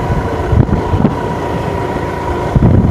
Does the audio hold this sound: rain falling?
no